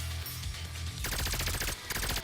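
SMG fire in the Nikke video game: a dense, continuous rattle of rapid shots that grows louder and sharper after the first second, with no talking.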